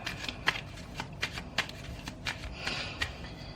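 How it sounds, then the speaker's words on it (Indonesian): Tarot cards shuffled by hand in a quiet room, a soft run of papery riffles and flutters with a few sharper snaps, close and fairly faint. "Aku shuffle dulu kartunya."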